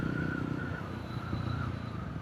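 A Yezdi Roadster motorcycle's exhaust rumbles steadily at a constant pace on the road, a low continuous drone with faint wind rustle and no talking.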